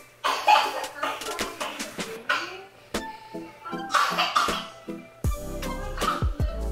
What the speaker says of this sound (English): She's coughing so hard to where like something's coming out